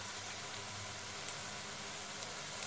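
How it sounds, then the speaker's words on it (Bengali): Lote fish fritters frying in hot oil give a steady, faint, even sizzle and crackle with no talking over it. "লাল করে ভাজতে হবে।"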